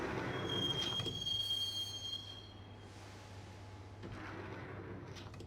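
Train ride in the Max Payne video game: a steady low rumble of the carriage with a thin high wheel squeal early on, then quieter rolling hum that swells slightly toward the end.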